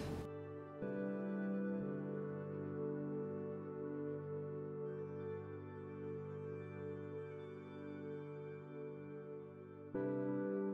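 A heat pump running at night, a low steady droning hum with a faint tonal whine, constant and fairly quiet in the background, with a brief change in level at the start and end.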